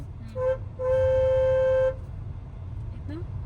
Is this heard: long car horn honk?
yes